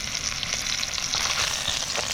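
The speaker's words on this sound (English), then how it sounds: "They're sizzling now." Food sizzles in a pan over a campfire in the Victoria High Country, a loud, steady, close frying hiss that runs unbroken throughout with no talk.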